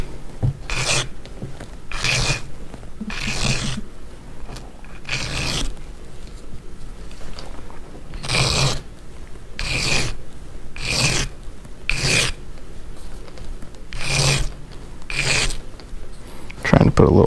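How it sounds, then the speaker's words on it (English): Sanding or filing a bevel onto the leading edge of a model rocket fin gives repeated rasping strokes, about a dozen in a steady rhythm, close and fairly loud. "Trying to put a little bevel on the leading in edge"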